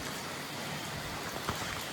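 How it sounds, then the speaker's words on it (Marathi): Steady rain falls outdoors in a residential area, a dense, even hiss of drops on surfaces with no talking, continuous and moderately close throughout. "पाऊस आहे बापरे."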